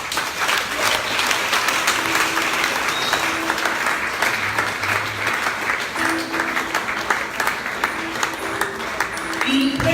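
A church congregation applauds its Sunday school teachers with sustained, dense clapping that fills the room for several seconds, with voices and cheers mixed in beneath it.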